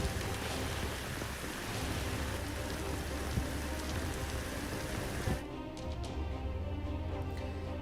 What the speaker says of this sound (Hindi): सूरत जहां मूसलाधार बारिश हो रही है